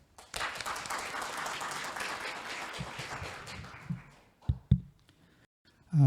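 Audience applause after a lecture at a forum on AI and security: a dense, steady burst of clapping that carries for a few seconds, then thins out into a handful of scattered claps and knocks.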